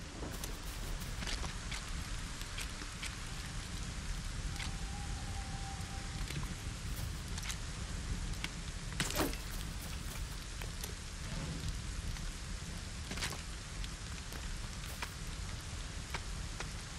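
Rain falls steadily in LEGO Fortnite as a constant broadband hiss, with scattered drops tapping on surfaces and an occasional louder crackle, continuous and fairly soft with no voices.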